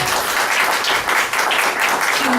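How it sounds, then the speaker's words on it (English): Audience applause at a Fanwood borough council meeting, sustained and even clapping from a seated crowd throughout, fairly loud and close with no voices over it. "let's give another round of applause to CASA"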